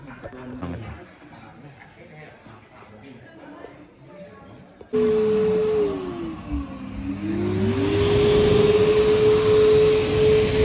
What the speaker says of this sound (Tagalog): May blower kami dito.